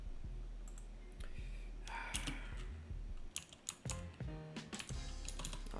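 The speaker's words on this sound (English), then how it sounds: "Oh, touch typing." Someone touch types on a computer keyboard nearby, with scattered clicks at first that build into quick, dense bursts of keystrokes toward the end, moderately quiet and with no speech.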